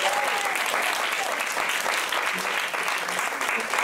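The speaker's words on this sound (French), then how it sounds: "Oh, alors double applaudissement." Warm audience applause during a public talk, a steady dense patter of many hands clapping, fairly close and continuous for a few seconds, with faint voices underneath.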